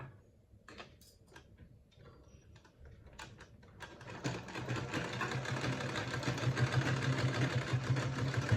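A sewing machine stitches along a salwar hem: scattered quiet clicks and handling noises first, then a steady, fast mechanical whirring that builds and runs on close by.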